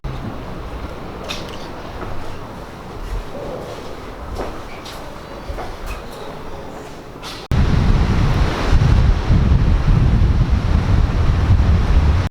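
Ocean surf rolls onto a beach in Porto below a seaside castle, a steady broadband rush that swells louder partway through, with gusty wind buffeting the microphone.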